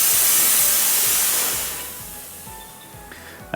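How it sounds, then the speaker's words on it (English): A carpet cleaning machine gives a loud, steady hiss of steam, with a faint rhythmic thump of water pumping underneath, then fades slightly as a machine hum continues. "you can hear the machine pumping water in as well as the steam"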